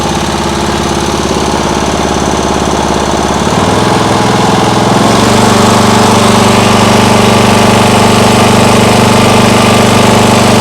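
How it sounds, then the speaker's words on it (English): A lawn mower engine rigged as an outboard motor runs steadily, loud and close, with a rough chugging drone that shifts pitch partway through as it surges, without any talking. "the engine sounds really nice, actually"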